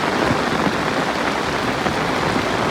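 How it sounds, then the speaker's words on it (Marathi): Heavy first monsoon rain pours steadily by a river, a dense, loud, continuous hiss of drops with no pauses and no voices. "हो कसा पाऊस पडतो बघा"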